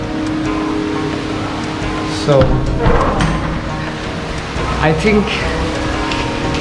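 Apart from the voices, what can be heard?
heavy rain falling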